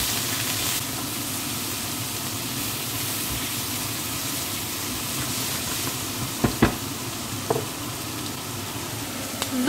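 Beef roulades sear in clarified butter in a pan, giving a steady close sizzle and crackle, with a few sharp clacks from utensils near the end.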